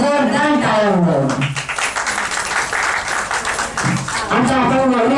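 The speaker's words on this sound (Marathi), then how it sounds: "एवढा छान पुरस्कार मिळवणाऱ्या वहिनींकरता जोरदार टाळ्या वाजवा" Audience applause at a state-level poetry gathering honours an award-winning woman, a dense burst of clapping lasting a few seconds between stretches of a voice speaking over a sound system.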